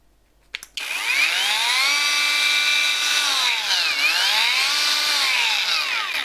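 A powerful WOSAI battery-powered angle grinder clicks on and spins up into a loud, steady high-pitched whine that holds, dipping slightly once before recovering, close by with no talking.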